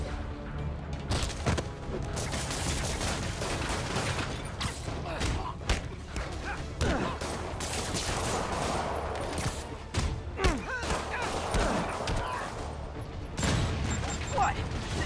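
Rockets streak in and explode amid dense action in Marvel's Spider-Man video game, producing a busy stream of booms, thuds and mechanical clatter, with voices speaking over the din.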